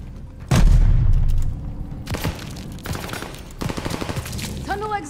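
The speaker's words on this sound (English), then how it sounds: "Grenade, get down!" A grenade blast in Call of Duty: Vanguard, set in Berlin in May 1945, erupts as a loud, deep boom that rumbles for about a second, followed by several sharp gunfire bursts and scattered battle noise.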